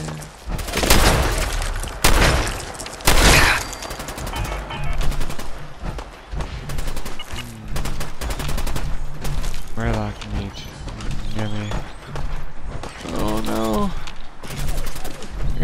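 Gunfire from the video game Fallout 4 during a castle mission, with repeated loud bursts and single shots scattered through the clip amid mechanical game effects, while someone talks over the action.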